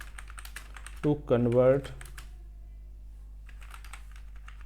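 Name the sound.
typing on a computer keyboard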